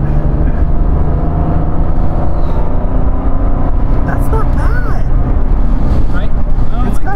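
A 1989 Chevy Corsica carrying three people pulls hard with a steady, loud engine drone and road and wind roar, with people talking excitedly inside the cabin throughout.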